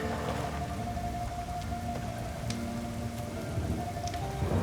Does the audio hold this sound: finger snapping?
no